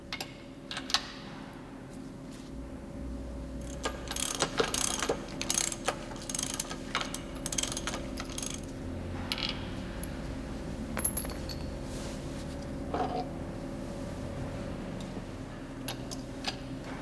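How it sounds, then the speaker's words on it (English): A ratchet wrench unscrews the two retaining nuts of a Meritor truck brake's spring brake actuator, giving bursts of close, sharp clicking over a steady low workshop hum. "Remove the spring brake actuator by unscrewing the 2 retaining nuts."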